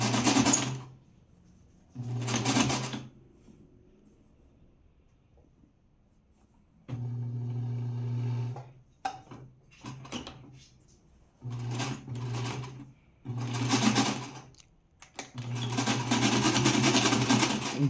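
A sewing machine stitches the seam of a double-width folkloric skirt in several loud whirring bursts of a few seconds each, separated by pauses, while someone talks between runs.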